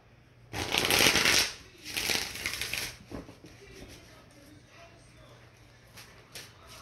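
Tarot cards being shuffled in a few brisk riffling bursts close up, loudest in the first half, then fading to soft handling rustles.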